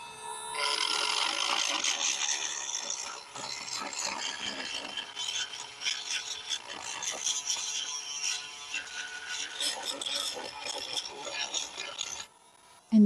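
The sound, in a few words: Dremel rotary tool on bentwood chair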